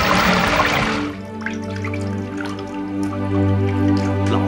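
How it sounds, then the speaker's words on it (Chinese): Water runs from a tap in an old Shanghai home, a splashing gush at first that quickly settles into a quieter trickle over a low steady hum, with no talk. "楼下水小一点，楼下自来水龙头关一关。"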